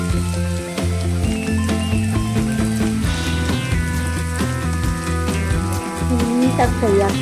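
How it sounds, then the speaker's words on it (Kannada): Egg bhurji ingredients fry in a pan with a steady, close sizzle that continues throughout, under a speaking voice and background music. "ನೀಟಾಗಿ ಫ್ರೈ ಆಗ್ತಾಯಿದೆ, ಈ ರೀತಿ ಫ್ರೈ ಆಗ್ತಾಯಿರಬೇಕು."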